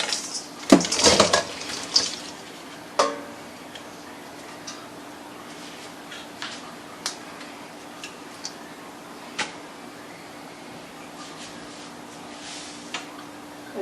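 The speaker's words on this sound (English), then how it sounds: "I'm just going to pour all of this in here so we don't lose all of the broth." Soup broth and vegetables poured into a colander, a burst of splashing liquid and clatter at the start, then scattered drips and light ticks as it drains, moderately close.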